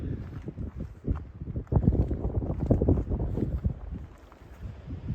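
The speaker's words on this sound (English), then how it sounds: "Still a bit breezy up here." Wind buffets the microphone on an exposed mountaintop along the Appalachian Trail in Virginia, a low, rough rumble that swells in the middle and then eases.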